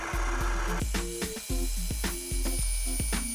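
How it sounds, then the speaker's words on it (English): A Litter-Robot smart litter box rotates to dump its litter into the waste bin indoors, giving a loud, close motor drone with repeated rattling, scraping ratchet-like clicks as the litter shifts and pours. "This will have the litter robot turn in the opposite direction to empty all the litter into the waste bin."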